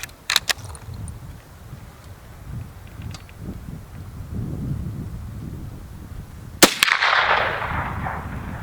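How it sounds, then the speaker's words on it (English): A single sharp rifle shot from a 36-inch flat-side Winchester 1895 fired outdoors, one loud crack over steady wind noise followed by a brief rumbling echo. "now we'll take one more shot with this 36-inch flat side"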